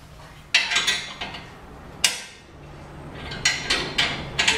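A nine-sixteenths wrench tightens a stabilizer on a DD Custom Industries portable wall workstation, giving a few close, sharp metallic clinks and rattling clicks in separate bursts.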